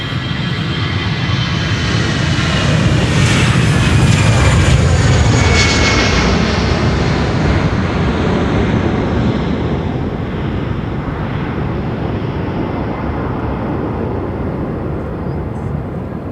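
A Vueling jet takes off from the Polderbaan runway at Amsterdam Schiphol with a loud, close engine roar that peaks early and then slowly fades as it climbs away.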